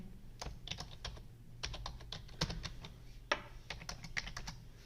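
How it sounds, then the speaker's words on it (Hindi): Fast clicking keystrokes on a computer keyboard while entering data in MS Excel, irregular bursts of taps close to the microphone with short pauses between. "जैसे हम मैनुअली यहां पे इसको टाइप कर सकते हैं।"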